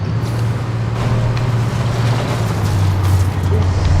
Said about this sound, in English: Possessed tractor.